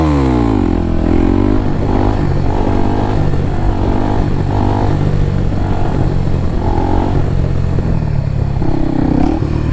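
A motorcycle engine revs loudly and steadily while the bike is held up in a wheelie and slowed, with rising and falling engine notes and some clatter, close and continuous, no talk.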